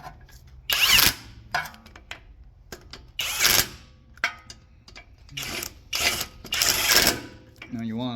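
A power tool runs in the retaining bolts on a 1996 Toyota Tacoma 4WD CV shaft, firing in several sharp bursts of whirring and ratcheting, separated by pauses, close and loud.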